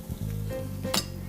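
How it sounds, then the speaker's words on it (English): Garlic sizzles in olive oil in a hot pan, a steady close frying hiss with a sharp metallic clink near the end, no voices. "You gotta hear that garlic sizzle to make it good"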